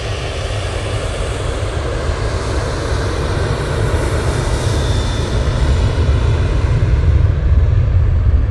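A Ryanair jet airliner takes off at Manchester Airport, a loud, continuous roar and rumble that builds slightly as the engines power up, heard from the distance without any voices.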